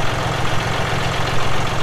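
A John Deere 5055e tractor engine runs steadily close by, a loud, even diesel rumble with a pulsing low throb and no talk over it.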